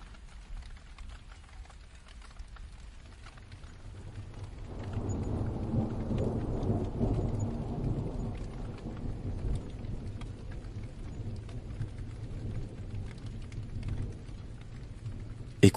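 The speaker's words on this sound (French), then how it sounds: "Écoutez le doux murmure de la pluie qui tombe sur les feuilles, les toits et le sol." Steady rain pours down on leaves, roofs and ground, swelling after a few seconds into a dense, rumbling wash with low thunder beneath, then holding at a heavy, even patter.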